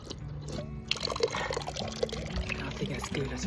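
Fresh water streaming from a public drinking fountain near Zürich, a steady splashing pour heard close up over an outdoor background.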